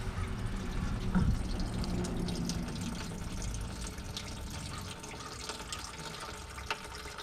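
Liquid pouring steadily from an opened petcock on a 1964 Plymouth Fury station wagon into a container, a continuous close splashing trickle throughout.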